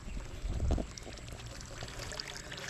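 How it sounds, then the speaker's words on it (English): A garden hose runs water into a leaking swimming pool, giving a steady splashing pour that is strongest at first and then settles into a softer continuous trickle, with no talk over it. "I've got a hose running and it's kind of matched to about the same flow as the leak."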